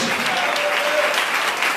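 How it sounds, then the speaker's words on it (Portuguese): A church congregation keeps up steady, dense clapping at worship, loud and continuous throughout. Faint voices sing or call out underneath. "Aplauda Jesus com mais alegria, palmas"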